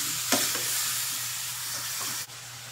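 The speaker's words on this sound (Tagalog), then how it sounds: "Gigisa ko na ng chicken." Chicken pieces sauté in a hot pan for adobo with cabbage, giving a steady close sizzle with a couple of spoon scrapes before the frying noise drops suddenly near the end.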